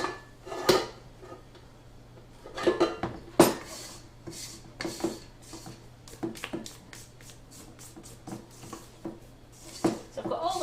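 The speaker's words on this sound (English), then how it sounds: "I'm just going to scrape that down again before I give it a final blast." A spatula scrapes cupcake batter down the sides of a mixing bowl, giving scattered clinks, taps and soft scrapes at an irregular pace, close by, with a low steady hum underneath and someone talking at times.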